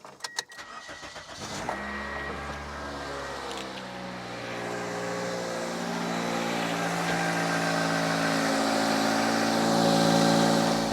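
Car engine cranking and catching after a Lokithor JC400 jump starter is connected: a short burst of starter clatter, then a steady idle that rises slightly and holds, close and loud.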